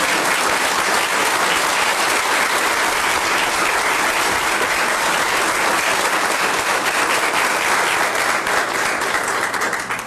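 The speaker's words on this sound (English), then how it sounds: "y'all can clap if you want to" Steady, loud applause from a press conference audience fills the whole stretch, dense clapping without a break as Governor Beebe confirms Tom Kimbrell as education commissioner.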